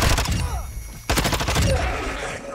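A Vaznev-9K SMG from Modern Warfare II fires in rapid, loud bursts at close range, with a short gap partway through.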